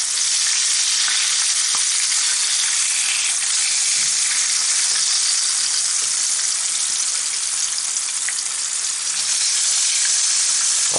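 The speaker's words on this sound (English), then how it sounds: "we've been frying here for a few minutes now" Fish frying in a pan gives a steady, dense sizzle and crackle, loud and close, continuing evenly throughout with no voices.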